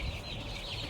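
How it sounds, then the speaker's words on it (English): Chickens cluck softly at a moderate distance over a hissy, noisy background, a brief murmur of fowl. "I currently still have a whole bunch of chickens"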